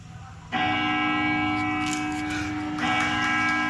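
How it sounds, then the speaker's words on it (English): A church bell rings with a sustained, humming tone; it is struck twice, the second strike swelling the ringing again, over a low background rumble. "we hear the church bell ringing."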